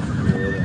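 A horse from a large herd of about 800 gives a brief, close neigh that is loud and sits over low rumbling background noise.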